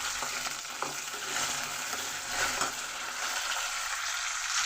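Curry leaves crackle in hot oil for a telagapindi curry, a dense, even sizzle close by with faint stirring scrapes running throughout.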